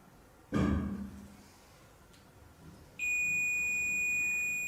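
A ghost-hunting pod device in a reportedly haunted house lets out a steady, sustained high electronic tone once triggered, following a sharp knock-like thud earlier; close and fairly loud, with no talk over it.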